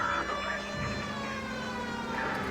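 A wailing ambulance siren in the video game L.A. Noire rises and falls continuously, fairly loud and steady, with a low engine-like hum underneath.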